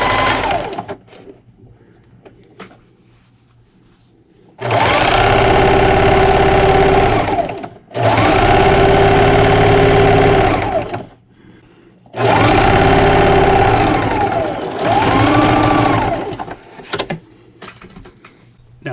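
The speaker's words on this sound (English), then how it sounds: "I'm going to sew all the way down that seam. So I'll be using a straight stitch." A sewing machine runs a straight-stitch seam along table runner fabric, guided by the presser foot edge with a back stitch. Three sustained, loud mechanical whirring bursts are separated by short quiet pauses.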